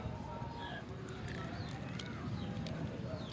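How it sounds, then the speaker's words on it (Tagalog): Pigeons cooing outdoors beside fish laid out to sun-dry, several soft low coos and faint chirps spread through the clip over steady background noise. "Dahil kalapati."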